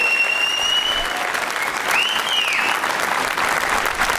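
An audience applauds at a record attempt of bending steel rebar, with dense, steady clapping filling the whole stretch and a couple of brief whistles cutting through.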